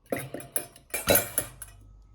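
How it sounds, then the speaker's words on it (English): Eggs are cracked one after another against the rim of a bowl, a string of sharp close taps and clicks with a brief wet splash, and no talk. "Now, you have to crack the eggs into the bowl."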